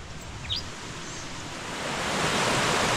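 The river flowing at the Riofrío spring, a dense steady rush of water that swells louder toward the end, with a faint bird chirp early on and no speech.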